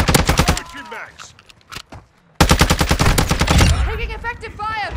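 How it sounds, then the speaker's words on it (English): Rapid bursts of automatic gunfire in Modern Warfare 2, a multiplayer Hardpoint match with the ISO Hemlock rifle, in sharp loud volleys broken by a short pause, with game voice chatter under the shots. "Taking effective fire"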